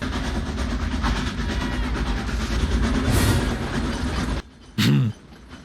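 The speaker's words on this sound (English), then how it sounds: "Don't stop the train." A train rolls steadily on rails in Back to the Future Part III, a dense loud rumble with clattering, cut off abruptly near the end by a short burst of another sound.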